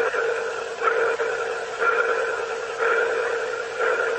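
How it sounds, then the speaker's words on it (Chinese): A strange pulsing, sonar-like ping comes through a cabin speaker aboard the Boeing Starliner spacecraft, relayed over a radio link. Regular pulses arrive about once a second, steady and repetitive, over a constant hiss. "It was kind of like a pulsing noise, almost like a sonar ping."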